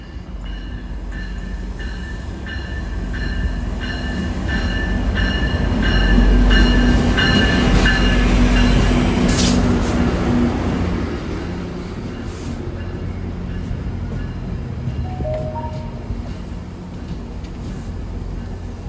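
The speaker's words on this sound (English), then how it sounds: "So I'm about to have a local train arrive first." A GO Transit local commuter train pulls into a station platform, its rumble building to a loud peak midway with rail clatter and brief wheel squeals before easing as it slows, heard up close without talk.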